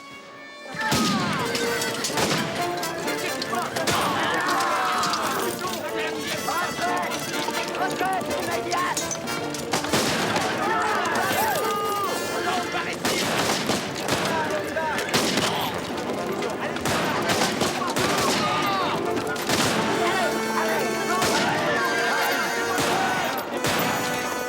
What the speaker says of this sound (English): was gunfire, a long way off.